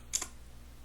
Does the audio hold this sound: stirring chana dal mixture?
no